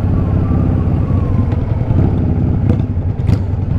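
A Yamaha Virago 535 motorcycle engine runs close and loud, a steady low throbbing idle with a faint rev near the end.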